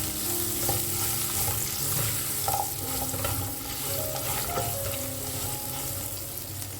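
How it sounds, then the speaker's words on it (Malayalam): Peeled, cut drumsticks and onions sauté in a pan for sambar, a steady close sizzle with scraping stirs and light clinks from the spoon, no voices. "ഇതിലേക്ക് നമുക്ക് ഒരു 2 മുരിങ്ങ തോലൊക്കെ കളഞ്ഞ് കട്ട് ചെയ്തെടുത്തത്, ഇതൊരു 3 മിനിറ്റ് നേരം നമുക്കൊന്ന് വാട്ടിയെടുക്കാം"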